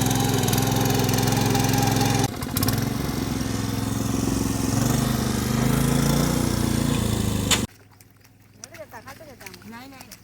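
A tractor engine runs steadily and loud in a ploughed, flooded rice field during winter planting in Konkan, a continuous close drone for about seven seconds before cutting off, followed by faint outdoor sounds.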